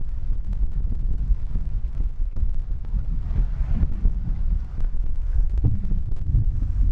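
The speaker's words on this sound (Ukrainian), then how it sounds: "вітер реально такий, що чайки летять" Strong wind on the Dnipro river buffets a microphone, producing a constant low, rumbling roar with gusty thumps throughout and no speech.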